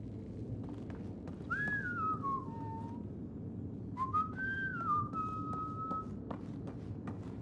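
A character in the Mass Effect Andromeda video game whistles two gliding, descending tunes, each lasting about a second and a half and separated by a short gap, over a steady low game ambience with faint clicks.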